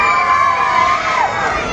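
A stand-up comedy audience cheers and roars together in a dense, sustained wash of crowd noise, loud and close, with whoops and shouts rising above it.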